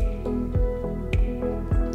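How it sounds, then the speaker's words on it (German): Wet, squishy squeezes of half a lemon repeat every few tenths of a second, juice dripping into a cup with vinegar, over a steady background hum. "geben einen Schuss Essig sowie den Saft einer halben Zitrone rein"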